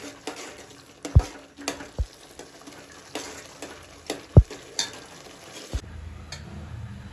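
A spoon stirs and scrapes thick pav bhaji in a pan, with irregular knocks and clinks against the metal and a soft sizzle underneath.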